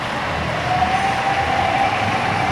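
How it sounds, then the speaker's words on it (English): Model trains run on a club layout module at a lodge train show, a steady close rumble with a faint whine over a continuous background hum. "We're in here playing with the trains."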